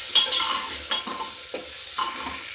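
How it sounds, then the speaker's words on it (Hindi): Onion and garlic fry on high heat in a pan for a ridge gourd peel curry, giving a constant hissing sizzle broken by a few brief scraping stirs, close and with no voices. "अब इसको देखिए गैस को तेज कर देते हैं। इसको भून लेते हैं।"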